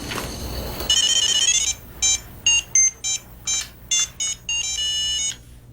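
A telephone rings with a bright electronic melody in short repeated bursts, then a longer sustained stretch, loud and close after a brief muffled rustle at the start. No one speaks.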